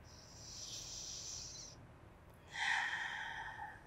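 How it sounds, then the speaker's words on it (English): Slow Pilates breathing: a long, soft airy exhale lasting nearly two seconds, a brief pause, then a stronger breathy inhale-like rush, close and quiet with no talking. "just breathing in and breathing out."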